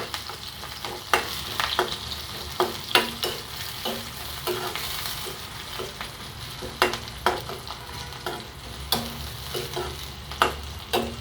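Onions and chilies frying in hot oil for a yardlong bean and potato fry, with a steady sizzle and repeated sharp scraping stirs of a spatula against the pan, no voices.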